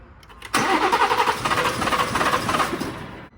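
A BMW B58 engine cranks and fires after a DME flash, catching abruptly and settling into a loud, rough, steady run close by before cutting off sharply.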